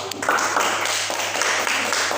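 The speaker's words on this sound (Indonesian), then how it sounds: "beri tepuk tangan lagi buat kalian semua" A classroom group of students applauds together, a dense, steady round of clapping that carries on throughout at close range.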